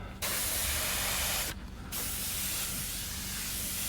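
An airbrush sprays paint through stencils onto skull artwork: a steady, close hiss runs in two bursts separated by a short pause, with no talking.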